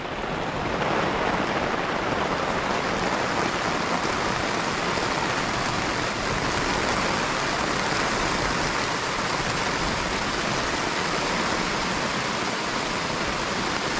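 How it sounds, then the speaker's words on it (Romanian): Heavy mountain rain pours onto a tarp in a constant dense, loud hiss that stays even and unbroken throughout. "plouă puternic. Priviți cum plouă."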